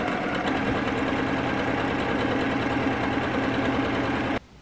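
A sewing machine with a quarter inch quilting foot runs steadily, stitching a seam in a tiered circle skirt dress with an even, fast mechanical whir and hum that stops abruptly at the end.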